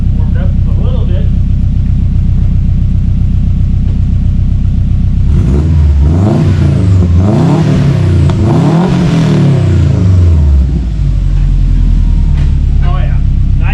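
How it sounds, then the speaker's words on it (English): A turbocharged Subaru Forester XT engine with a Stage 2 tune idles, then revs hard several times in quick bursts before settling back to a rumbling idle, close by. "let's give this thing a rev"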